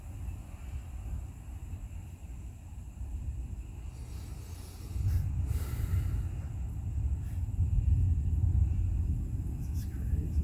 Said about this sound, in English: Comes some thunder.